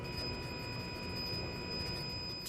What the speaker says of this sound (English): This is the sound of the motor in operation.